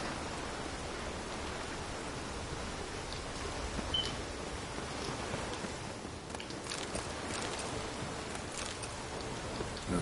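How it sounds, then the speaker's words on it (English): Rain falls in a video game, a soft, even hiss of drops spread across the whole scene, faint and steady, with scattered small ticks and nobody talking. "Looks like rain."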